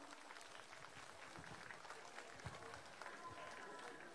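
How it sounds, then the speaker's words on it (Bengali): Faint applause from an audience at a book event, honouring an author on stage, heard as a distant, dense patter of clapping with crowd murmur mixed in throughout. "সবাই মিলে একটা হাততালি হবে না স্যারের জন্য?"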